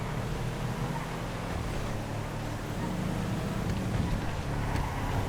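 Cara 4x4 utility vehicle driving in GTA FiveM, a steady rumbling engine with rushing wind-like noise, constant and fairly loud throughout.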